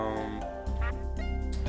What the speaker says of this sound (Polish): widzę kaczkę